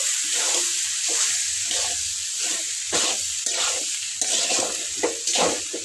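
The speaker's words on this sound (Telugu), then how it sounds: "కాకరకాయలు అయితే వేసేస్తా వేసేసి సిమ్లో పెట్టి బాగా కారం ఉప్పు కాకరకాయ పట్టేలాగైతే కలిపేసుకోవాలి" Sliced bitter gourd fries with chili powder and salt in a pan, a steady close sizzle broken by repeated scraping strokes of a spoon stirring the pieces.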